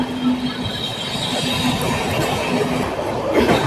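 The Ratnachal Express with LHB coaches rolls steadily along the rails, a continuous broad rumble with a faint squealing tone from the wheels, heard close and loud from on board.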